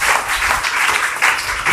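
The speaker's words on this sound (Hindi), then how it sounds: "पल्लवी के लिए एक इंग्लिश ग्रामर का किताब आता हुआ एक जोरदार ताली होनी चाहिए" A school audience applauds a student at a quiz event, a brief burst of steady clapping that stays fairly even and close.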